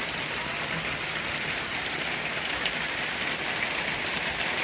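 Steady rain falls on a house roof at a reservoir fishing spot, a dense even hiss of drops holding at one level throughout with no talk over it.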